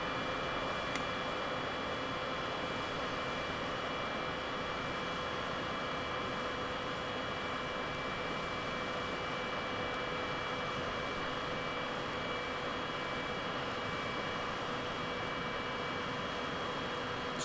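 A MiG-21bis jet in Microsoft Flight Simulator 2020 at reduced throttle, a steady, continuous broadband engine roar with faint whining tones, unchanging throughout and no talk.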